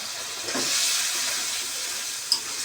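Spice paste of turmeric and chili powder sizzles steadily as it is fried in a pan, a close continuous hiss with a faint stir and a brief clink near the end.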